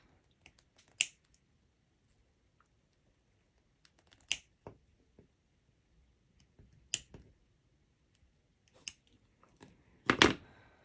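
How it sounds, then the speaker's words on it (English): Small nippers snip through thin dollhouse parquet flooring strips in 1:24 scale, giving a handful of sharp, crisp clicks spaced a few seconds apart, closest and loudest near the end, with no talking. "now with my nippers, I will cut this side off"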